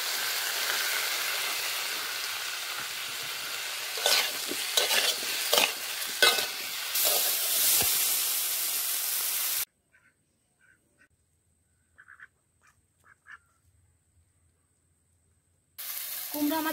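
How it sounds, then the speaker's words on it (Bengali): Raw pumpkin and small rui fish curry sautéing in a pan with green chillies: steady sizzling with several scraping stirs close by, then a gap of near silence with a few faint clinks before the sizzle returns. "কুমড়ো আমাদের কষা হয়ে গেছে"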